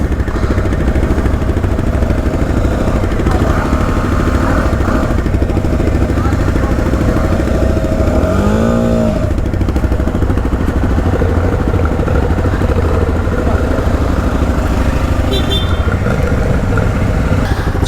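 A KTM 690 single-cylinder motorcycle engine runs steadily as it warms up, a loud continuous rumble that fills the whole stretch, with a brief rising whine near the middle and faint voices in the background.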